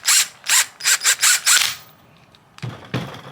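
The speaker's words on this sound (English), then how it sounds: "I'm gonna bolt this on now, but leave it loose" A ratchet wrench clicks in several quick bursts, tightening an air suspension bag part on a 2022 Subaru BRZ, then falls quiet before a louder, rougher spell of ratcheting returns near the end.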